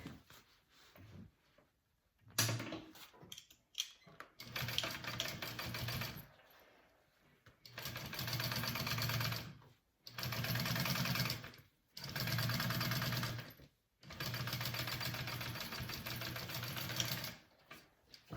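Top stitching along a pouch lining seam, a sewing machine whirs in about five close, fairly loud bursts of rapid needle chatter separated by short silent pauses.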